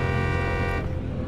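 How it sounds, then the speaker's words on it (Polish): Car horn blaring in the video game Cyberpunk 2077, a single sustained loud honk held for about a second before cutting off into a rumbling engine, close and alone. "Nawet nie reagują na klakson"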